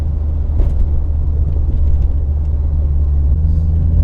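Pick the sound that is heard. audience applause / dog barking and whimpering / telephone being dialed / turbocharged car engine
turbocharged car engine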